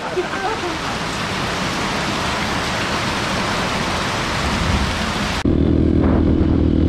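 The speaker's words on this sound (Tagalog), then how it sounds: "Sinugod na rin namin ng ulan." Loud, dense tropical-storm downpour on Mount Oro hissing steadily, close by, then abruptly cutting to a quieter, muffled rumble near the end.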